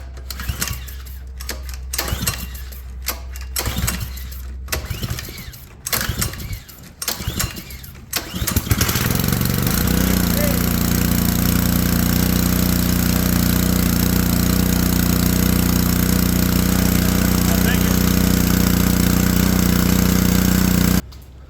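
A dune buggy engine cranks in bursts of loud starter chatter and sputtering, then catches and settles into a steady, loud, close idle that runs without talk until the end.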